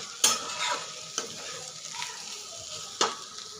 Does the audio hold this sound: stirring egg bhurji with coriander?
yes